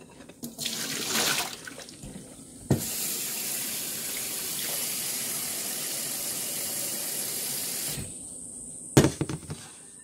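Tap water runs into a sink while a wool nappy cover is rinsed clean of wool wash. The stream starts and stops, with a steady splash in the middle and brief handling noises at the ends.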